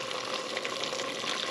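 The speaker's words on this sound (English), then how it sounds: "10 minutes, and now we're adding hot water." Boiled water pours steadily from a kettle into a simmering rabbit stew, a continuous splashing gush that stays close and even from start to finish.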